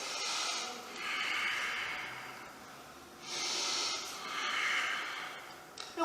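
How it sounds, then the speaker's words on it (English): Two slow, deep breaths are taken close up during a seated yoga pose, each a long airy inhale and exhale with a soft hissing rush and quiet gaps between them. "And we'll take some deep breaths."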